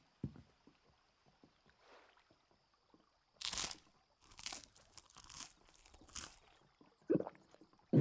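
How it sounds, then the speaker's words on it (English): Bread being bitten and chewed in Final Fantasy 16, heard as several crisp crunching bursts over a few seconds with quiet gaps and faint background ambience. "Let me hear that crunch."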